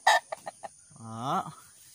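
Fighting roosters in a backyard let out a quick run of sharp, close clucks, then a longer drawn-out crowing call, loud and clear with no talking.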